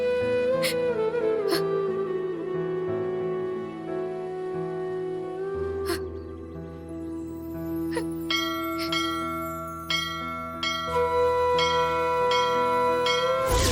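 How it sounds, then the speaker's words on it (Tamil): A temple bell is struck again and again at uneven intervals, each clang ringing out with long metallic decay over a sustained droning background. "இந்த கோயில் மணிய நான் அடிச்சுக்கிட்டே தான் இருப்பேன்"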